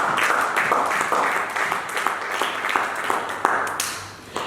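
A church congregation breaks into applause during a French-language sermon, steady dense clapping with a few sharper claps standing out, sustained for several seconds before tapering off.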